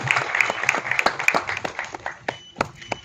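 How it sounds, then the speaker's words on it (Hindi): An audience claps at a film trailer launch, a loose scattering of individual hand claps close by, with uneven rhythm that thins toward the end and no voices over it. "अटल बिहारी वाजपेयी जी के लिए एक बार जोरदार तालियां हो जाए"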